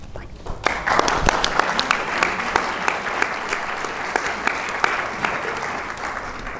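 Audience applause at a women's gathering on violence against women, a steady, dense clapping from a crowd in an indoor hall, sustained throughout with sharp individual claps standing out.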